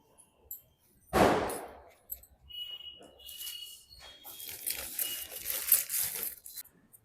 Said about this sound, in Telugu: బాంబులు అయితే వేలుస్తున్నారు